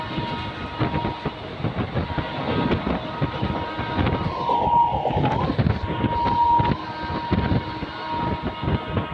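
Bhopal–Howrah Weekly Express rumbling past during a crossing, heard from a moving train with steady wheel clatter and wind roar throughout, and a brief high brake-like squeal midway.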